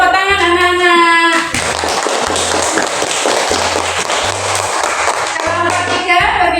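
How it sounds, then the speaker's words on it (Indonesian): Children in a classroom clap for a group of classmates, a dense patter of many hands that starts abruptly after a tonal opening and continues over a rhythmic low backing. "kasih tepuk tangan anak-anak"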